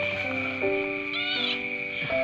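A sick cat brought home from a market, suffering from a protruding anus, gives a couple of close, plaintive meows over a steady background hum.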